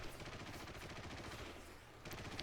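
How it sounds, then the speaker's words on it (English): Continuous rapid machine gun fire in a simulator battle video game, a dense rattling stream of shots that barely pauses throughout. "Hanzo's just now using the machine guns at the moment."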